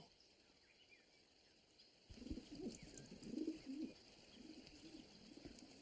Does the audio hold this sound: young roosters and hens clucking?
no